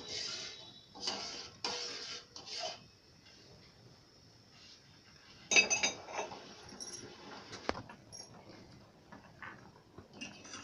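A spoon stirs millet payasam with milk in a pot, making intermittent soft scraping strokes and occasional metallic clinks, faint and close with quiet gaps and no talk.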